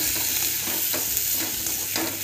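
Eggplant sautés in oil for a Marathi khar vanga dish, a bright steady sizzle punctuated by regular scraping stirs.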